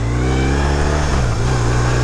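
A car pulls away from a malfunctioning red traffic signal: its engine hums steadily and climbs a little, close and fairly loud, with no talk over it.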